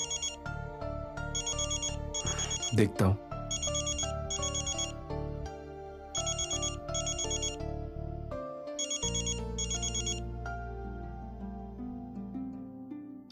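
A phone ringtone plays repeatedly in regular bursts over a background tune, loud and near, with a brief voice partway through.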